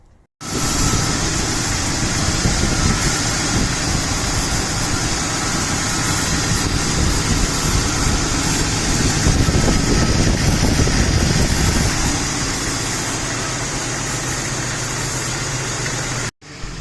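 A car engine runs steadily after a coolant refill and heater core repair, giving a loud, continuous idle rumble with a rough, vibrating texture that holds for about sixteen seconds before cutting off.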